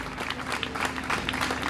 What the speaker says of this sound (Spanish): Pediría para ella un aplauso.